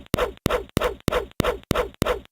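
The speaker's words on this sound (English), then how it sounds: "The swing attacks sound like this." Seven rapid, evenly spaced swing attacks from The Elder Scrolls: Arena, each opening with a sharp pop followed by a short whooshing swipe, loud and clean with silence between them.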